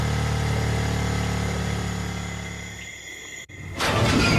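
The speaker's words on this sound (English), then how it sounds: "She gunned the engine, and the bike accelerated" A motorbike engine drones loud and steady, its pitch sagging slightly before a brief cut, then the engine surges back in with a rougher, louder roar; no one speaks.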